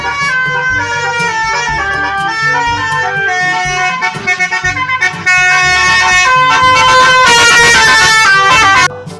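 A city bus sounds its telolet horn, playing a loud, bright multi-note melody in quick bursts and runs of chiming tones, close by and with no other sound over it.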